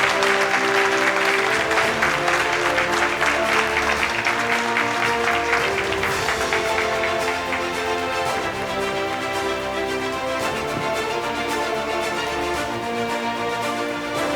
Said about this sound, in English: I want you all to give a big round of applause to the friend of India, Dr. Bradley Peckler